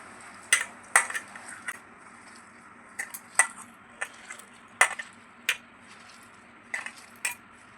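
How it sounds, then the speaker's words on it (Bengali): Filling being kneaded and mixed by hand with tomato ketchup, giving soft squishing and light handling noises with scattered sharp clicks and knocks, close and fairly quiet, with no talking. "হাত দিয়ে ভালো করে এখন মেখে নেব।"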